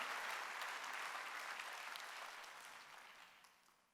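Church congregation applause at a Wednesday worship service, dense clapping that begins fairly loud and gradually fades away over a few seconds.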